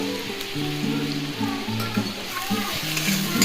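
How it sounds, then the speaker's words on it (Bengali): Tomatoes and dried chili paste fry over a high flame with ginger and garlic, a close, continuous crackling sizzle with soft stirring scrapes throughout, no talk. "এবার ফুল আঁচ করে কষাতে থাকছি।"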